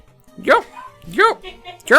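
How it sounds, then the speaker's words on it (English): A dog barks close and loud three times in a steady rhythm at night, each bark sharp and rising, with faint background between barks. "He's just barking for no reason at 9:30 at night."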